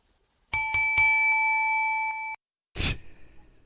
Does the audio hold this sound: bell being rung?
yes